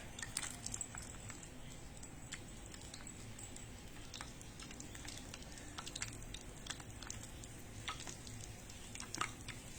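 Continuous crackling sizzle of sweet potato fritters deep frying in hot oil, steady and close, with occasional sharper pops and spatters.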